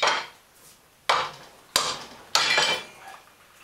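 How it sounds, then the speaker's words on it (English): A spanner wrench striking a metal lathe chuck while locking a small gear in place, four sharp metallic clanks spaced irregularly, each ringing briefly and decaying, close and fairly loud with no talking. "Take our little spanner wrench."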